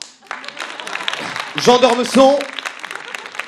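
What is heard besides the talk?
audience applause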